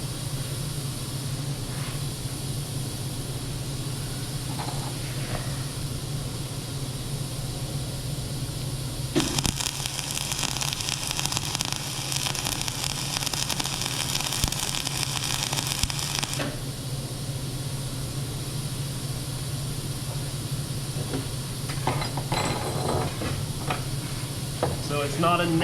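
MIG welder running on metal at setting 5, giving a steady crackling, frying hiss that holds for several seconds amid low background hum and noise.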